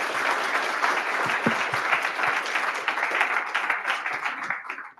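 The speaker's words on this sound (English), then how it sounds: "Let's first give a huge round of applause to Anant for this awesome talk." A meetup audience breaks into dense, sustained applause after a security talk, many hands clapping at once, fairly close and steady before tapering off at the end.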